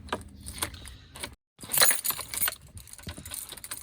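Car keys in the ignition jangle and clink close by in several small metallic bursts, broken by a brief silence, with some handling noise and no talk.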